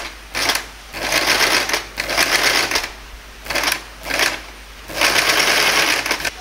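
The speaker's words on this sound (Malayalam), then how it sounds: "ഇതുപോലെ നമുക്ക് സ്ട്രെയിറ്റ് ആയിട്ട് സ്റ്റിച്ച് ചെയ്ത് പോകാം." Sewing machine stitching satin ribbon piping in quick bursts, a rapid close-up clatter of the needle starting and stopping several times with short pauses between runs.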